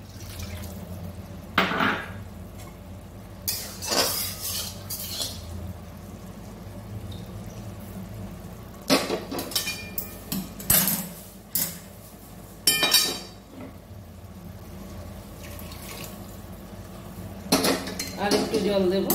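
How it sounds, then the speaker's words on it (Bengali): Wok being washed at a kitchen sink, with repeated clanks and scrapes of metal cookware and utensils in short bursts over a low background hum, no talking. "কড়াটা ধুয়ে জল দিয়ে দেবো"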